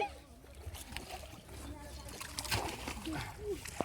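People splash water while bathing during a family puja, with irregular sloshes and splatters nearby under overlapping voices, a child among them.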